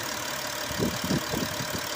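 An Audi A8 engine idles steadily with a broad mechanical hum and a faint rhythmic low knocking, close by and constant throughout.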